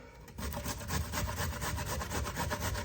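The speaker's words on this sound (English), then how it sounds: "I just grate my zucchini straight in" Zucchini grated straight into a bowl, a close, steady rasping scrape that repeats in quick strokes without pause for almost three seconds.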